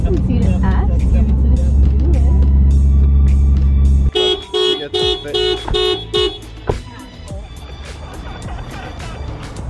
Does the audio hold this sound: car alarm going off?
yes